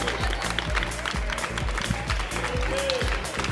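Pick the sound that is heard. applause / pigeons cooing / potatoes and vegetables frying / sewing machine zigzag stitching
applause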